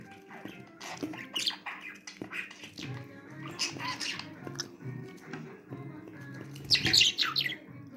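A small bird chirps and squawks close by in bursts, with a shrill cluster of high tweets near the end, amid soft taps and murmured voice.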